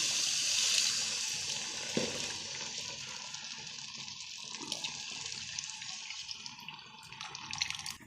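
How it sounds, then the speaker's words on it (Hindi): Water poured into a pot of red beans (lal lobia) cooking on a stove, a steady splashing pour running throughout with no talk. "ये जो अभी पानी निकाला हुआ था इसका लोबिया का अपना, ये इसमें शामिल कर देंगे।"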